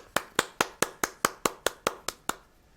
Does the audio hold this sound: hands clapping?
yes